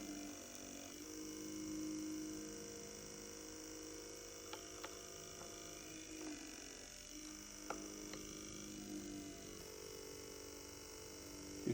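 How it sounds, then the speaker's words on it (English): A small motor on a desktop dynamometer hums steadily and then drops in pitch as it slows under increasing load, faint and continuous with a few clicks and no speech. "You can hear the motor slowing down as we are squeezing on it more"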